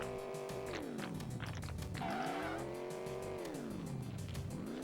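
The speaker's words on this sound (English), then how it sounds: "Like this car is crazy stable." A video game car drives hard, engine revving up and down in smooth sweeping waves while tires squeal and skid in bursts, loud and constant throughout with no talking.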